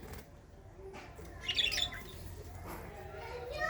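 Pet birds kept in a cage give a few faint chirps and squawky calls, with a brighter burst of chirping in the middle over a quiet indoor background.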